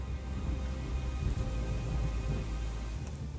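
Rain falling during a thunderstorm near Sikirnaya Hill on an island in the White Sea, a soft, even hiss of rainfall with a faint low rumble of thunder underneath, quiet and distant.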